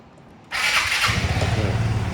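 A 2019 Vespa GTS Touring 300 ABS scooter engine starts abruptly after a brief quiet moment and runs on in a close, buzzing putter.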